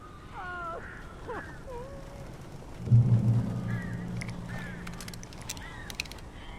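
Strange birds caw and squawk in the video game Alan Wake, several warbling, croaking calls scattered across the scene, a low rumbling swell in the middle and sharp clicks near the end.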